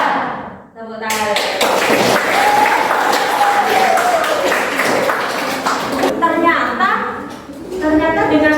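Classroom applause from students at the end of a lesson, a burst of dense clapping lasting several seconds with children's voices chattering before and after.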